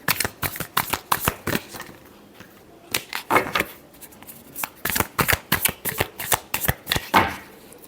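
Tarot cards are shuffled close by in repeated quick riffling bursts of crisp card flutter, separated by short pauses, with no talking.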